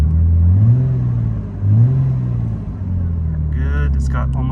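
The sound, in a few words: Nissan R34 Skyline GTT engine revving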